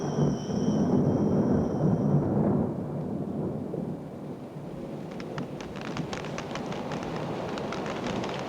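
Heavy tropical rainforest downpour during a thunderstorm: a dense, loud, steady roar of rain with a deep rumble, heaviest in the first few seconds, then settling into continuous hiss with crisp drop spatter.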